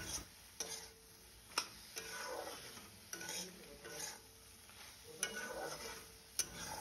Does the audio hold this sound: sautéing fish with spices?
yes